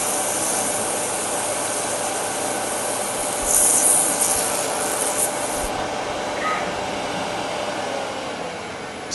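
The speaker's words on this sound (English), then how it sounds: "We're just going to hit the bottom with a little sandpaper." Steady abrasive rubbing of sandpaper on wood, continuous and close, with a slightly louder burst partway through and no talking.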